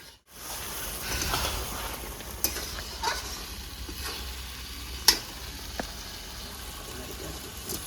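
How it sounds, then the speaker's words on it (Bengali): Meat for kosha mangsho fries in a pan with a steady, moderate sizzle, broken by a few sharp clinks and scrapes of stirring. "ঢাকা দিয়ে 2-3 মিনিট আমি ভালো করে কষে নেবো।"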